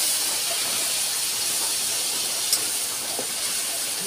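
Meat frying in a hot pan for Palawan honey adobo, a steady, loud, close sizzle and hiss running without a break and without any talk.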